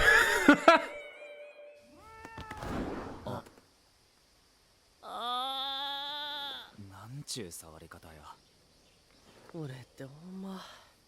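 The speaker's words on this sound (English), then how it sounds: "hungry kitty." A hungry cat in an episode of the anime The Summer Hikaru Died gives several drawn-out, wavering meows separated by silent gaps, clear and close, alongside brief other sounds at the start.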